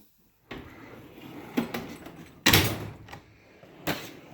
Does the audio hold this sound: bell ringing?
no